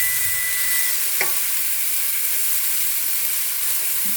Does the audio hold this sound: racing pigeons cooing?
no